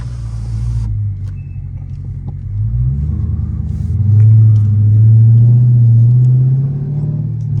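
A Scat Pack 392 engine drives on a wet road late at night with a steady loud rumble, rising in pitch as it accelerates midway, while faint exhaust pops come through beneath the drone.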